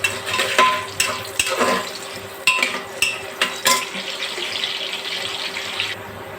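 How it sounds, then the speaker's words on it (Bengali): Sliced onions and bay leaf go into hot oil in a pan. Sharp metallic clanks and scrapes repeat over a running sizzle, then the clatter fades to a softer fry. "পেঁয়াজটা একটু ভেজে নেব।"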